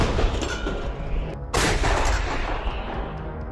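Ukrainian artillery fires in combat, several loud, heavy booming blasts, one sharp burst standing out midway, over a rumbling battlefield background.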